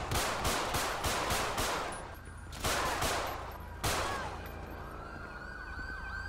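Rapid bursts of gunfire rattle in quick succession in the game Grand Theft Auto V with the LSPDFR police mod, then pause and resume in sharper single shots, fairly loud with no talking.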